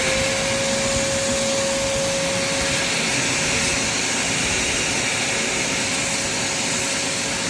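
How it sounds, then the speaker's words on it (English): A vacuum cleaner runs over two thin doormats, a loud, constant drone with a steady high whine that holds throughout with no pauses or voices. "I'm gonna vacuum these two mats right here."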